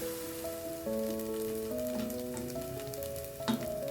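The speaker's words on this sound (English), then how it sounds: "let's add the finely chopped mushrooms to some heated oil and saute them over medium heat for about 8 minutes" Finely chopped mushrooms sauté in heated oil over medium heat, giving a steady, soft sizzle beneath louder sustained music, with a brief clatter near the end.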